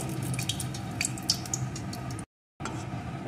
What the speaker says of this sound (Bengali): এখন এই তেলের ভিতরে দিয়ে দেবো একটা শুকনো লঙ্কা।